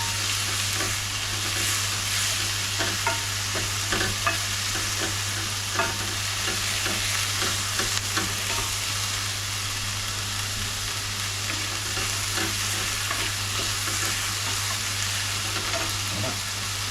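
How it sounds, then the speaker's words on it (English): Constant crackling sizzle of onions frying in a pan, with occasional stirring scrapes and a low steady hum underneath. "adding water to onions when they're frying"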